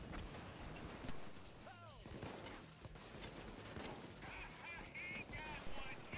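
Enemy shotgun fire in Payday 2, a busy burst of repeated gunshots over game noise and a voice, with a bulldozer enemy close by.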